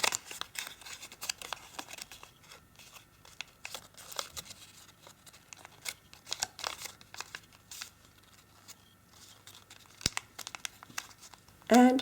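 Soft crinkling and creasing of origami paper, folded into mountain and valley folds for an Easter duck, faint and close, with light rustles and one sharper press near the end.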